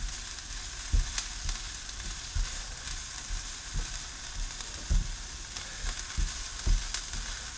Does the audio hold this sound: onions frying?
yes